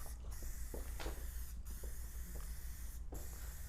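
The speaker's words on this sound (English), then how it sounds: "I've got McKee's 37 high gloss detail spray. I'm simply going to spray that on." Three quick hisses of McKee's 37 high gloss detail spray misted from a trigger bottle onto a fabric convertible top and a towel, evenly spaced over a steady low background hum.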